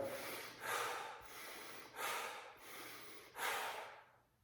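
Shallow chest breathing demonstrated in a performance-mindset session: three quick, airy breath cycles with sharp sniffing inhales, close and fairly quiet, with no talk.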